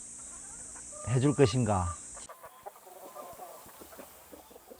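Backyard chickens kept by a family at a rural home give a short burst of loud, close clucking. Quieter rustling and a faint voice follow.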